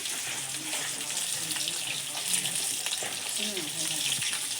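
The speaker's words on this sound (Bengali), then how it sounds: "এই দেখুন বন্ধুরা, মাছ ভাজা হয়ে গেছে।" Pieces of Nile tilapia fry in a pan of hot oil with a steady, close crackling sizzle that never pauses, while a faint voice talks in the background.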